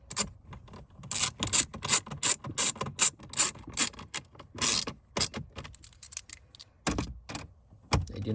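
A ratchet clicks in quick bursts while two small 7mm bolts are snugged down during a cabin air filter change on a 2017-2023 GM Duramax L5P truck, each run of close, sharp ticks broken by short pauses.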